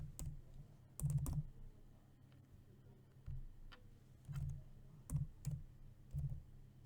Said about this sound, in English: put the cursor where you want to start typing in and start typing.